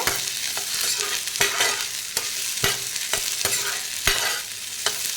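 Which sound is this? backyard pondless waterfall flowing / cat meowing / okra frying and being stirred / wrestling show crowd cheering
okra frying and being stirred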